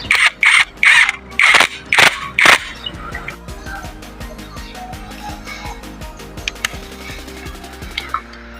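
An INGCO 20V lithium-ion impact wrench with 17, 19 and 21 mm sockets fires in five short, loud, evenly spaced bursts of hammering, followed by quieter clicks and handling noises.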